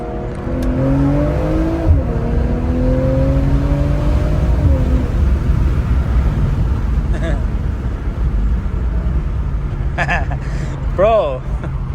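A BMW M340i revs as it accelerates in traffic, its engine note climbing in pitch through gears with a shift near two seconds, heard from inside the cabin under steady road noise, with a person talking.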